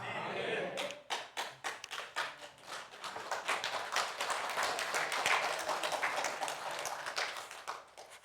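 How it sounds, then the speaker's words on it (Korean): A church congregation bursts into applause during a Sunday sermon, a dense, fairly loud wash of clapping that swells after a few sharp opening claps and carries on steadily for several seconds without speech. "제가 목회하면서 설교하다가 박수 2번 받아보기 처음이에요."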